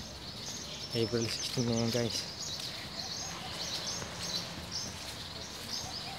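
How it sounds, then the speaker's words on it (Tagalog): Birds chirp at a bird breeder's aviary in a rural village, faint high tweets and calls running continuously under a man's nearby speech. "Dito tayo sa mga ibon natin."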